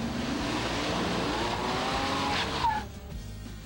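A four-wheel drive Ford Ranger with an Eaton locking differential spins its tires, giving a sustained engine roar with skidding tire noise, close and loud, that eases off near the end.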